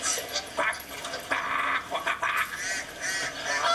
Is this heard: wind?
no